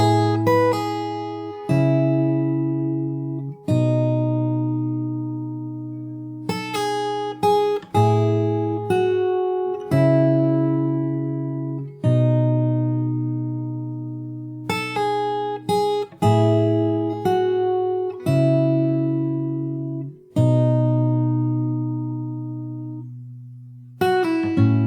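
Plucked acoustic guitar plays the bridge of a song, melody notes over changing chords, a steady picked pattern of ringing strings with fresh attacks every second or two.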